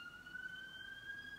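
An emergency vehicle siren sounds faintly from outside in South Harrow, a steady, thin held tone under a quiet background, with no voices.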